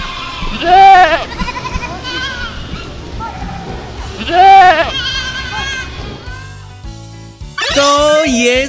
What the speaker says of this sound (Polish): To jest koza! Tak, to koza! Koza meczy!